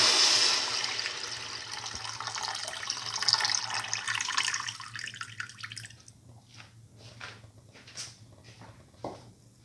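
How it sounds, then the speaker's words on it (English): Coconut milk is poured onto vermicelli pasta, producing a continuous liquid pour with hiss at first, then giving way to scattered splashes and clinks over a low hum. "Now pour in the coconut milk."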